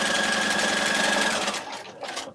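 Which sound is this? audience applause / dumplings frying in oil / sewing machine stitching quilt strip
sewing machine stitching quilt strip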